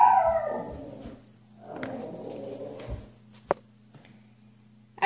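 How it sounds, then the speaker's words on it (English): A dog howls and barks briefly nearby, a drawn-out howl followed by a few short whimpering yelps, then a low electrical hum and scattered small knocks. "sorry for the startling dog."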